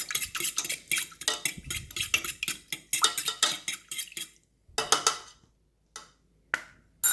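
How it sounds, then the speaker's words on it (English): A mixture containing a broken egg is stirred in a pan, giving close, crisp scraping and clinking bursts in quick rhythmic strokes, pausing near the end with a few isolated taps. "Break 1 egg in the same pan and just mix it all around before you add the flour"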